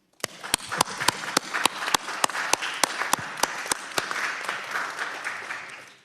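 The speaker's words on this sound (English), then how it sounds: "Can we give them a round of applause?" Applause in a congressional hearing room, a modest spread of clapping from a small audience punctuated by one loud, evenly spaced nearby clapper that stops before the rest fades out.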